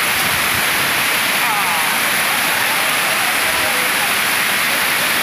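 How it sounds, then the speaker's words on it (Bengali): Water rushes over the steps of Bhushi Dam near Lonavala, Maharashtra, in a loud, unbroken roar heard up close, dense and constant with no pauses. "অদ্ভুত জলের স্রোত"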